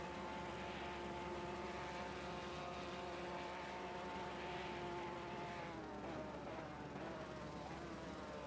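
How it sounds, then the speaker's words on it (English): A helicopter in the racing game Assetto Corsa Competizione at Spa-Francorchamps drones with a wavering pitch, rising and falling as it moves, steady and fairly faint throughout. "I was enjoying the helicopter."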